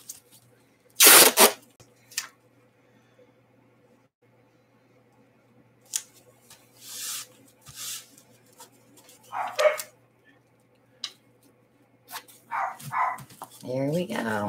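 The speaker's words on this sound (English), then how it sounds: "When one barks, they all start barking." Several dogs in a home bark in scattered short bursts, some sharp and loud, others more distant, with quiet gaps and shuffling noises between them.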